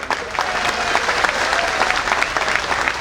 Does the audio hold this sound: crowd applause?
yes